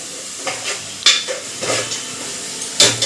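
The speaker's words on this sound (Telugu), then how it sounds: "కొంచెంసేపు మంచిగా ఫ్రై అవ్వాలి" Food frying in a pan while being stirred, with a steady sizzle under several sharp scrapes and clinks of the spoon against the pan, close and fairly loud.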